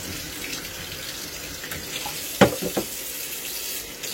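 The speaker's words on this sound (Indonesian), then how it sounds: "kalau kura-kuranya cuma aku bilas begini ya" Water from a sink tap runs steadily while rinsing a pet turtle, with a brief burst of splashing midway as the turtle is moved under the stream, close and moderately quiet.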